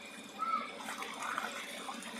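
Water in a rural home village setting, a soft steady flowing and splashing wash heard from nearby, fairly even in level with slight swells.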